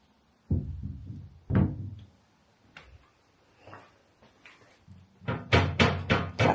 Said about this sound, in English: It was a glass cabinet.